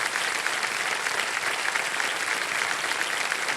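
Studio audience applauding to congratulate contestant Sarita on the KBC quiz show, a steady, dense wash of clapping that holds evenly from start to finish with no break.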